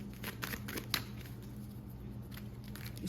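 Tarot cards being handled and shuffled, with quick papery riffles, taps and crinkly clicks in uneven bursts, clustered early and near the end over a low steady background hum.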